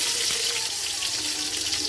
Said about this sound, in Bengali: কড়াইয়ে তেল দিয়ে দিয়েছি, তারপরে রসুনগুলো দিয়ে দিলাম